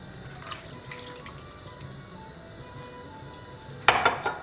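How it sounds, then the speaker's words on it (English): Water poured into a hot pan of sausages, a sudden hissing sizzle with spattering near the end after quiet kitchen background, close and fairly loud. "So we're going to add a half a cup of water."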